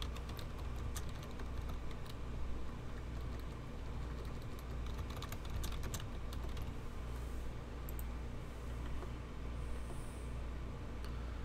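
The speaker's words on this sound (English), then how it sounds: "You just slam on the keyboard." Someone types hard on a computer keyboard during a Town of Salem game session, a quiet, continuous patter of key clicks over steady background hiss.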